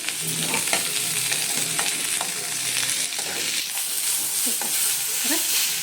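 A lemon-sized lump of tamarind fries in a pan for a Mangalore-style Cori, giving a steady, close sizzle broken by scattered clicks and scrapes of stirring, with no voices.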